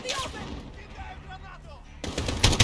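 Rapid bursts of gunfire in the video game Call of Duty: Modern Warfare (2019), a dull stretch of background game noise breaking into loud, dense automatic fire near the end.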